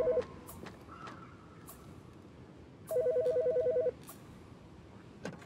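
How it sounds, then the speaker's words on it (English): A telephone rings in the horror video game The Chaput's Baby, with two bursts of an electronic trilling ring, one short and one about a second long, over a quiet ambient background. "I'm gonna take this phone call, okay?"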